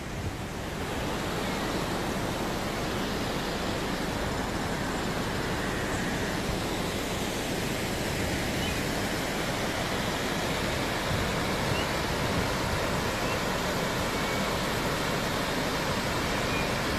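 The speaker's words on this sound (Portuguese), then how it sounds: "Olha que beleza, o rio derramando." The Cangalha river by highway MG-188 near Paracatu, Minas Gerais, overflowing its banks gives a steady, dense roar of rushing water, loud and unbroken throughout, with no voices.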